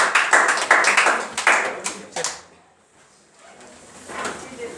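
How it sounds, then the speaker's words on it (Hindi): Enthusiastic audience applause welcoming participants to a school mathematics and science debate competition, a burst of loud, rapid claps that fades out after about two seconds, with a little scattered clapping returning near the end. "तो एक बार जोरदार तालियों से इनका स्वागत करें"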